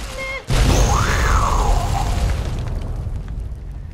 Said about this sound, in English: Detonating things with my laser.